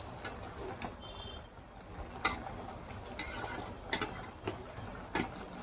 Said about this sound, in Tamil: மாங்காய் நல்லா கொதிச்சு வந்துருச்சு. அதை அப்படியே பெரட்டி விட்டுக்கோங்க.